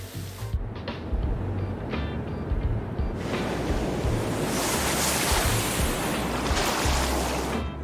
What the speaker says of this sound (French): Sont sweet les vagues!